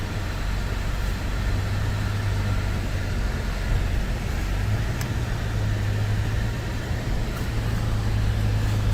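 A car drives along a rough gravel mountain road, producing a steady low engine drone and continuous road rumble with no talking.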